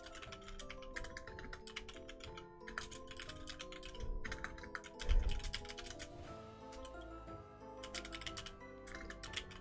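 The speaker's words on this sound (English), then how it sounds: "Nobody hears me typing on my keyboard, right?" Rapid typing on a computer keyboard, with clustered bursts of clicking keystrokes and short pauses, close and fairly quiet over a faint background hum.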